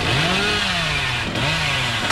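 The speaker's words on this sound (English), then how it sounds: "They're really good at blocking my chainsaw" Chainsaw in a video game revving up and down in a continuous drone with pitch that rises and falls twice, loud and steady throughout with no talking over it.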